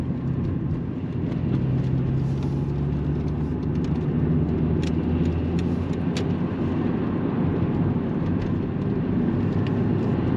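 Interior drone of a 25-year-old Volvo 850 GLT with an inline-five engine while driving, a steady low engine hum and road rumble at constant loudness throughout, with no talking.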